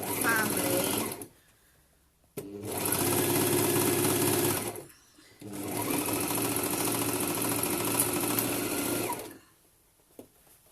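A domestic sewing machine stitches a bralette in three long, steady whirring bursts, with short quiet pauses between them, loud and close.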